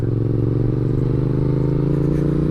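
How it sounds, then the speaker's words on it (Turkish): Steady, loud engine drone of a Yamaha MT-07 motorcycle ridden in second gear, a continuous low throbbing from a helmet-mounted perspective with wind noise. "Ya şimdi ikinci viteste bu motoru kaldırabiliyorum"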